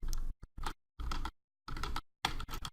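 Keys on a computer keyboard are struck in short, close bursts of rapid clicking, separated by brief silent pauses, heard alone with no voices.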